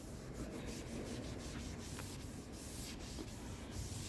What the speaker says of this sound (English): Grab your Mr. Clean sponge and just slowly work it up and down.